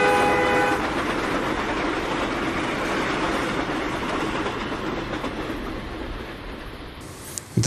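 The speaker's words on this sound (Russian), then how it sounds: "сейчас у нас с тобой вот здесь в студии проедет железная дорога" An added sound effect of a train passing through a studio, a loud continuous rumble with rhythmic clatter of wagons and a brief horn at the start, carrying on alone without talk.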